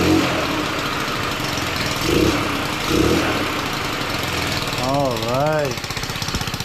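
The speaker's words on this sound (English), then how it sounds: "Man, that thing just fires right up. This is a good running engine." A GY6 scooter engine runs on a homemade run stand, idling steadily before the throttle is opened and the revs rise and fall, while someone talks over the mechanical clatter.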